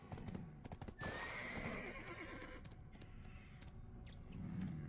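A horse in the Black Desert Online video game gives a sharp, high neigh close up while its hooves beat a fast, rhythmic gallop that continues underneath.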